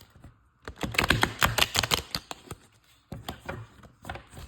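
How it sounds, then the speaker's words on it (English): A deck of playing cards being shuffled by hand up close, two quick bursts of rapid crisp clicking separated by a short pause. "So let's try to get a good shuffle of the cards."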